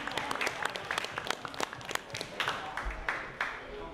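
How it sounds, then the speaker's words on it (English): Audience at a fight press conference for Ollie Jones and Wolf claps together, a dense patter of many hands that holds steady for several seconds and carries some crowd murmur. "Can we have a round of applause for both fighters"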